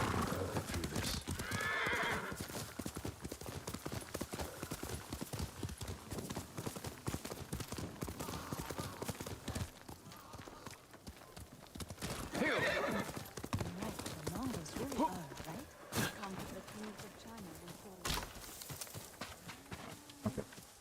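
A horse's hooves clip-clop steadily through a Ghost of Tsushima game scene, with loud whinnies and neighs breaking out at intervals, close and clear, while a voice talks intermittently over it.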